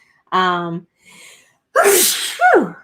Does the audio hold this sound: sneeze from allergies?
yes